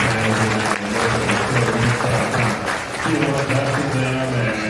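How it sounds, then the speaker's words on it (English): An audience at a county fair swine show claps in a steady burst of applause, with a brief dip before it picks up again under a droning background. "If I could ask for a round of applause"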